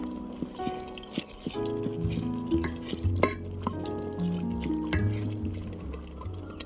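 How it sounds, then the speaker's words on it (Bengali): Boiled lentils for a mango dal are worked with a wooden dal masher in a pot, giving soft wet squelches, knocks and stirring scrapes in an uneven rhythm, close and fairly quiet. "ডাল ঘুটনি নিয়ে ভালো করে ডালটা ঘেঁটে দেব"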